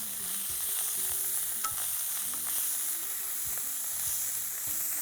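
Mint and coriander leaves wilt in a hot pan, giving a steady, bright sizzle with soft intermittent scraping from stirring, close and constant throughout with no talking.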